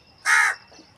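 A single loud, harsh caw from a crow, close by and alone, lasting about a quarter second, followed by a faint softer trailing call.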